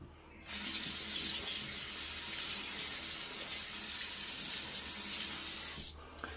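Tap water runs steadily into a sink to rinse fingers and a knife blade, a constant close splashing hiss that starts and stops abruptly.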